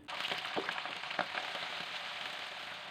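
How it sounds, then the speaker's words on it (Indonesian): Washed, cut salted squid frying in hot oil, a steady crackling sizzle with sharper pops and spatters scattered through it, close and alone without speech. "bisa kita goreng cuminya yang sudah dicuci dan dipotong-potong tadi ya bun"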